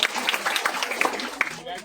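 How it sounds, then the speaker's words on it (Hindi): At a Ghalib Day celebration, the audience breaks into scattered clapping that crackles alongside a speaking voice, busy and fairly close throughout the short stretch. "मैं चाहूंगा कि उनके लिए भी जोरदार तालियों से सत्कार करें।"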